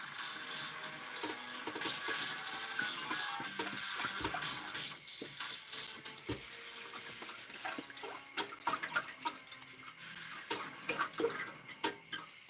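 Soup being poured in a Minecraft VR cooking game makes a continuous liquid trickle. Toward the end it breaks into splashy, irregular drips and spatters, close and fairly quiet.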